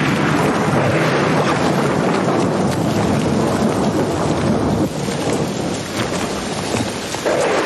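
Heavy rain pours down in a thunderstorm, a dense, loud, continuous roar with rumbling thunder blended through it, and no voices.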